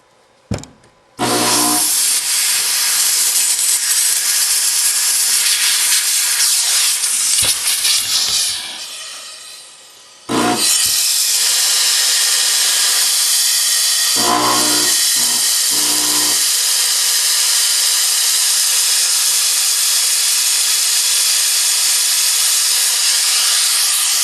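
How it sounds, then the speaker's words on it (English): Steam cleaner blasting straight steam with Simple Green down a gun barrel: a loud, steady hiss that runs nearly the whole clip, dipping briefly twice with short pauses and sputters before resuming. "I'm just going to run straight steam down it along with some simple green here"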